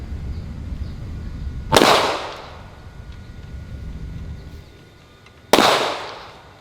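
Two sharp, loud video game gunshot cracks a few seconds apart, each with a short decaying tail, over a low steady background hum.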